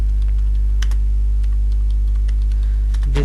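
Keys tap on a computer keyboard while text is typed into a Google search, scattered light clicks over a constant low electrical hum.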